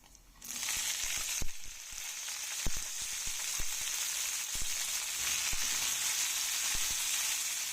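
A pinch of fenugreek seeds and cut ripe red chillies frying in a pan, giving a steady bright sizzle that starts abruptly and persists, punctuated by occasional soft spatula taps.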